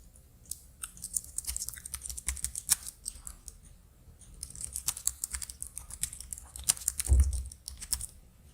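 Quick irregular clicks of typing on a computer keyboard while filling in an online application form, crisp and close, coming in bursts with brief pauses and a low thump near the end, no voices.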